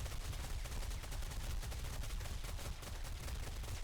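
Rapid, continuous turret gunfire in 7 Days to Die, a dense, steady stream of shots that stays loud and unbroken throughout, with no talking.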